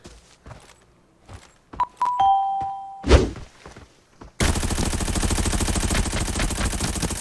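Gunfire in the video game Arena Breakout: a few scattered thuds and clicks give way to a sustained loud burst of rapid automatic fire that runs to the end.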